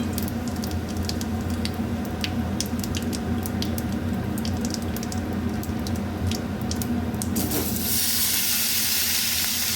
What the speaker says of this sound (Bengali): ওই তেলের মধ্যেই একটা শুকনো লঙ্কা, তেজপাতা আর হাফ চামচ গোটা জিরে ফোড়ন